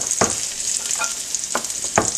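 Scallions fry in a pan with a steady sizzling hiss, broken by a few soft clunks of stirring or utensil contact; no voices.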